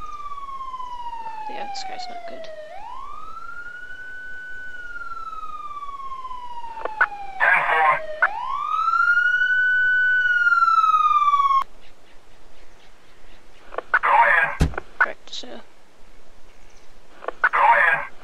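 Wailing and yelping emergency siren in the Emergency 4 game with the Montana mod, rising and falling in long sweeping cycles, then switching to faster pulsed bursts; someone speaks briefly over it.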